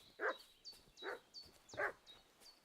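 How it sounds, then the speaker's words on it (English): A dog in a video game barks and fusses, three distinct barks with softer yips and whimpers between them, fairly faint and set against a thin high game tone. "What's that dog making such a fuss about?"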